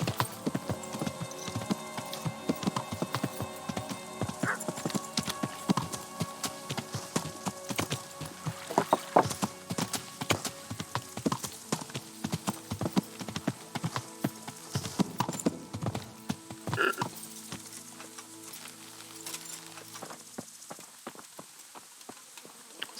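Horse hooves clip-clop steadily at close range for over twenty seconds in the Kingdom Come medieval role-playing game, with a faint rain-like hiss in the background and no speech.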